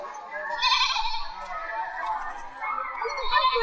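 A goat bleats in a quavering, nasal call that runs for a few seconds at moderate level, with a short break and then a second bleat near the end.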